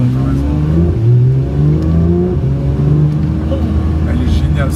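A car engine revs and accelerates with rising, sliding tones, loud and close throughout, while people talk over it.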